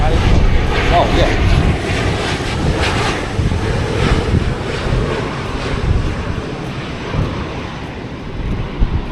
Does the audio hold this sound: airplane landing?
yes